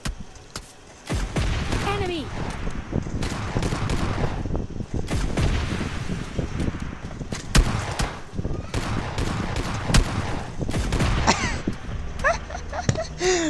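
Heavy booms and scattered gunshots, some likely from a rocket-propelled grenade, ring out in a video game team deathmatch. Loud blasts recur irregularly over a busy background with voices talking underneath.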